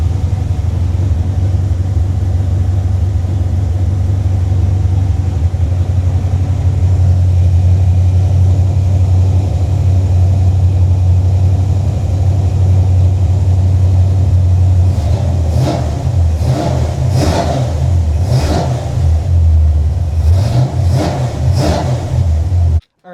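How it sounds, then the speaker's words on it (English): A Chevy small block 350 V8 car engine rumbles loudly at idle, then in the final seconds it is revved in several sharp bursts that rise and fall one after another. "So let's start this car up and see if it gushes out oil like it did last time."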